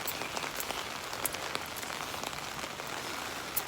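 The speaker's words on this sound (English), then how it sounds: "I like to listen to the rain" Steady rain falls outside an open window of a flat, a dense, even patter of drops with occasional sharper splashes, close and moderately loud, with no voices.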